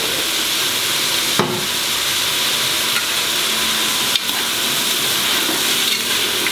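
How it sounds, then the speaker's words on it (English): Chopped tomatoes sizzle and fry in a pan over the flame, a loud, constant crackling hiss close by, broken by a couple of sharp stirring knocks. "Let the tomatoes cook and become soft."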